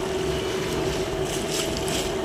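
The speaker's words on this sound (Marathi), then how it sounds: "कुठपर्यंत जाणार आता ही बोट?" A boat ride on open water with a cool breeze, heard as a continuous rushing wash of water and wind noise, loud and unbroken for the whole stretch.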